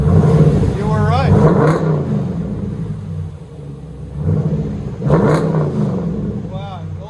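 A 2020 Dodge Durango R/T with a 5.7L V8 and four Flowmaster Outlaw exhausts rumbles and revs close by, deep throbbing swells rising and falling, while people talk over it.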